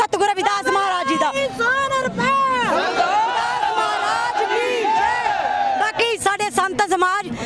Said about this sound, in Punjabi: ਲਾ ਦਿਓ ਇੱਕ ਵਾਰੀ ਜੈਕਾਰਾ ਸਤਿਗੁਰੂ ਰਵਿਦਾਸ ਮਹਾਰਾਜ ਜੀ ਦਾ